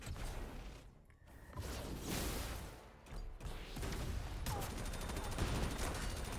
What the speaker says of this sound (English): Golden Shadow Star shotgun sounds really sweet.